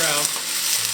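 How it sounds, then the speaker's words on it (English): A brief, steady burst of sizzling as onions are stirred around a hot, oiled pan over medium heat for French onion soup, close and fairly loud, with no speech. "Stir them all around"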